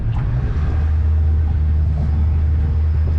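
A boat motor fitted with a jet pump runs steadily during a test run, trimmed all the way down, producing a loud, close, continuous low rumble with a strong steady hum.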